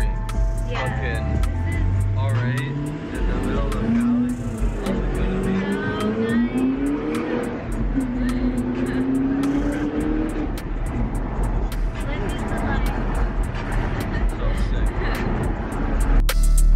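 A car on a drive in California hums steadily from inside the cabin, its engine rising and falling under continuous talking.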